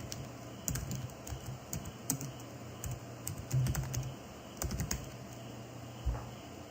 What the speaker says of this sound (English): just double click it and type in your text